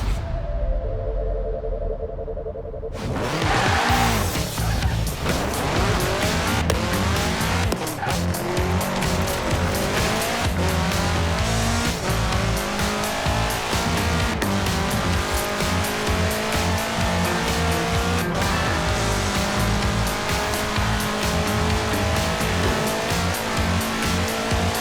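A 1966 Volkswagen Beetle fitted with a 2.5-liter turbocharged flat-four roars loudly in Forza Horizon 4, revving hard through rising and falling gears with squealing tires, after a brief quieter idle at the start.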